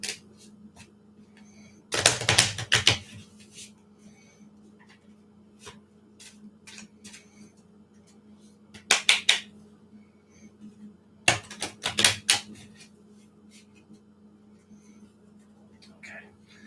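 Three short bursts of cards being riffled and shuffled, separated by quiet pauses over a low steady hum.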